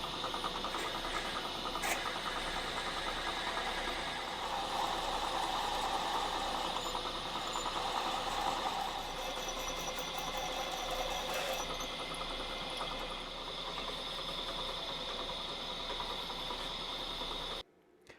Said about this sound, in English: I'm just going to put it in the collet block here and do it in the mill instead